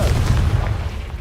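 A Confringo fire spell explodes in Hogwarts Legacy, a deep, heavy boom with a rumbling low body that fills the short moment, loud and close.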